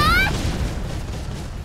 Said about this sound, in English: Bombshell Blast deals fire damage.